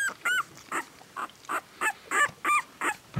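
An eight-day-old puppy, coppery with little white, whimpers in a rapid series of high, thin cries, about ten short squeals close by, with no voices.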